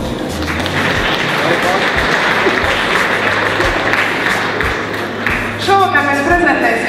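An audience claps steadily at a Mercedes V-Class presentation, a thick continuous burst of applause lasting several seconds that thins out toward the end as a voice starts speaking over it.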